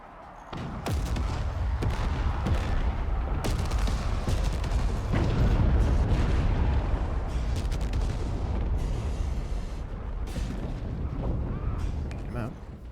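Sustained heavy weapons fire in the Forts RTS game, a dense barrage of booms and blasts pounding a target for nearly the whole stretch, loud and continuous with a voice talking over it.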